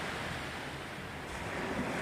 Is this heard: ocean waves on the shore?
yes